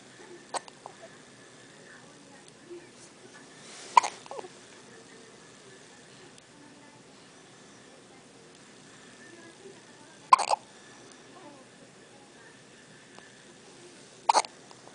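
An infant's hiccups come as a few sharp little gulps, three main ones separated by long quiet gaps, with small rustles and faint background noise in between.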